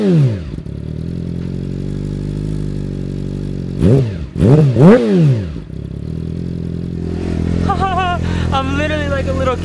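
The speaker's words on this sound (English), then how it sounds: "so you guys can really hear what the exhaust sounds like. So let's go ahead and start her up." A 2018 Yamaha R6 sport motorcycle starts up, settles into a steady idle, gives a couple of sharp throttle blips and returns to idle. The exhaust is close and loud, with a voice talking over the later part.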